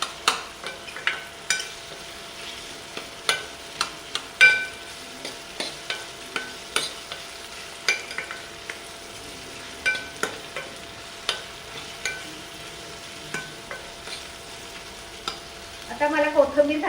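Crushed garlic frying in a pan for masoor dal, with a spoon stirring it through. Frequent sharp scrapes and clinks sound over a soft, steady sizzle, and they bunch together and grow louder near the end.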